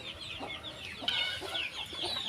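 A brooding hen with chicks on a poultry farm makes soft, repeated clucks, with thin high chick peeps running throughout at close range.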